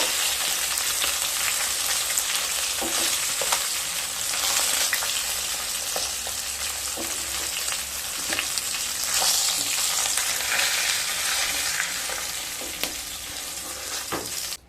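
Katla fish pieces crackle and spit in hot oil, a loud, dense sizzle with scattered sharp pops and occasional scraping, continuous and close throughout.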